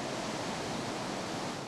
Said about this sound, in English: A spectacular sight, a waterfall drenching everything downstream.